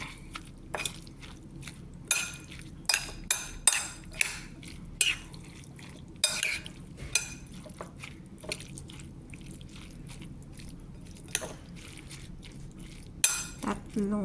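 A spoon stirs kilawin in a bowl, giving a close, irregular run of sharp clinks and wet taps against the dish, spaced by brief quiet gaps over roughly fourteen seconds.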